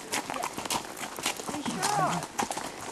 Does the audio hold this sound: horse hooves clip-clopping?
yes